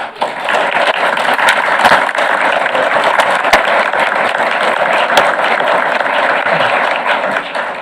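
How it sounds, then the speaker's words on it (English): Sustained applause from an audience at a school board meeting, steady and fairly loud throughout with no pauses, a few sharper claps standing out from the dense wash of hands. "I hope that we can just recognize her tonight with an applause of her service to our students and"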